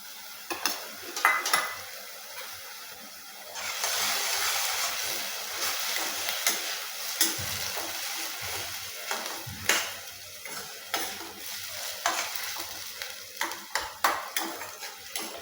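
Onion and tomato paste fry over a high gas flame, a steady sizzle building after a few seconds, with spoon scraping and clinking against the pan throughout.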